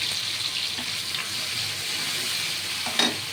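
Spice paste fries on low heat in a pan, a steady close hiss of sizzling that swells with a brief sharper spatter near the end, no talk.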